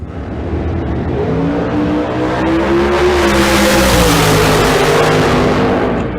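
Bracket-racing drag cars at Tucson Dragway launch down the track with a loud, sustained engine roar that rises in pitch as they accelerate, heard close and alone.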